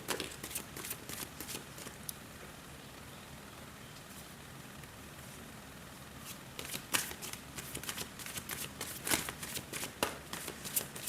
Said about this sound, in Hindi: तो इसी के साथ हम शफलिंग स्टार्ट करेंगे